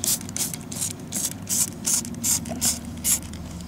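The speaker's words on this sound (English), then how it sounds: "So here I'm going to spray the soapy solution again." A hand spray bottle mists soapy solution made from ground bar soap onto a car window during tint removal, with about ten rhythmic, close hissing squirts in steady succession.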